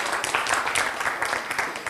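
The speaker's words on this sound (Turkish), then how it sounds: "Şükrü Güler'e bir alkış" An audience at a stage show breaks into dense, steady applause, many hands clapping together at close range without pause for the brief span.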